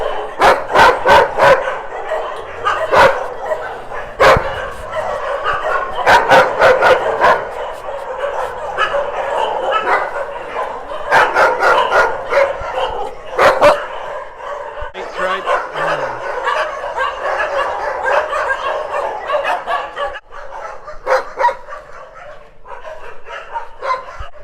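Several dogs of different sizes bark, yip and whimper loudly in runs at a dog rescue shelter in Phuket, sharp barks overlapping in clustered bursts, with a faint voice now and then.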